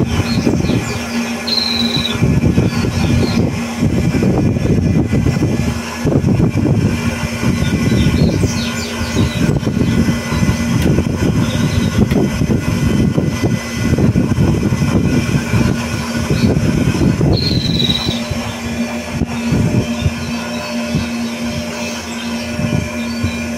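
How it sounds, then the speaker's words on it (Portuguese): A generator motor runs at higher RPM, a loud steady mechanical drone with a constant hum and rough rhythmic churning that holds throughout, close and without speech. "Vamos ver quanto está puxando o meu motor."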